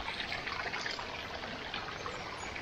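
Water trickles and splashes steadily along a forest trail in Malshej Ghat during monsoon, a continuous close gurgling flow with no voices.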